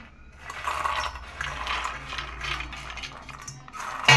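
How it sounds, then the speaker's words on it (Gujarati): Raw peanuts being mixed by hand into salted water in a pot make a steady rattling, grainy swish with gritty clicks, close and moderately loud, ending in a sharper knock. "હવે એમાં દાણા ભેળવી નાખો"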